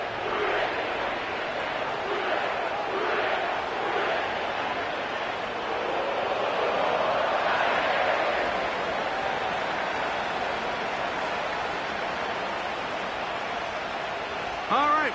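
Steady roar of a stadium crowd at Paycor Stadium in Cincinnati in an EA Sports NFL video game, a continuous wash of cheering with someone talking over it throughout.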